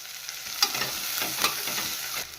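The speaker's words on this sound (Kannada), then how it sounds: "ಇದು ಸಹ ಗೋಲ್ಡನ್ ಕಲರ್ ಬರೋವರೆಗೂ ಚೆನ್ನಾಗಿ ಫ್ರೈ ಮಾಡ್ಕೋಬೇಕು. ಇದಕ್ಕೆ ಗೋಡಂಬಿ ಸೇರಿಸ್ತಾ ಇದ್ದೀನಿ." Onion slices and cashews fry in oil in a pan for tomato rice, a loud, steady sizzle with a couple of sharper stirring scrapes and no voices.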